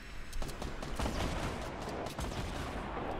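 Rocket launcher fire in Fortnite Battle Royale, with dense, continuous booming blasts and bursts of gunfire layered over each other, loud and close throughout.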